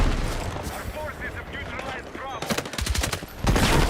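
AK rifle firing in a video game, loud rapid reports close by, clustered into a quick volley near the end under ongoing talk.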